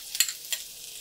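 Four garlic cloves hit a smoking-hot wok, giving a couple of sharp crackling sizzle bursts close up that quickly fade to a faint hiss.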